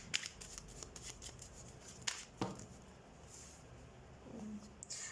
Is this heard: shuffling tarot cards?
yes